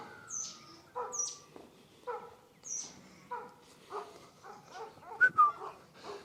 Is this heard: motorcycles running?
no